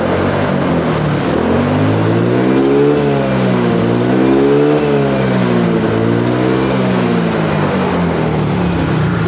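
A smoking motorcycle engine runs smoothly, its steady mid-pitched hum rising and falling gently with light throttle blips, loud and close throughout with no talking.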